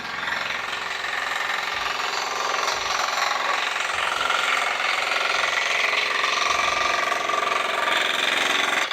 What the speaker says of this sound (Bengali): তো 10 এইচপি মেশিনে কেমন মাটি গর্তগুলো সেটাই আমরা একটু দেখবো।